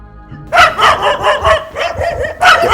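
Several livestock guard dogs bark in rapid, repeated bursts at night in a Senufo village near Korhogo, loud and close with overlapping yips.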